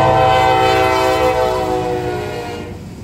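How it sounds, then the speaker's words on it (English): A Norfolk Southern train approaches with a loud, sustained multi-tone horn blast over rumbling rail noise, the horn fading slightly toward the end. "looks like we got a Norfolk Southern coming up now"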